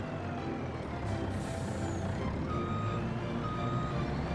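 A truck backing up in Farming Simulator gives faint, steady reversing beeps over a continuous engine rumble, heard at a distance with no talk.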